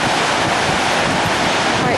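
Water from the Garrison Dam spillway roars down the spillway channel in a loud, steady broadband rush, with wind buffeting the microphone throughout.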